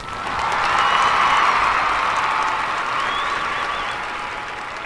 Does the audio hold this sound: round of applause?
yes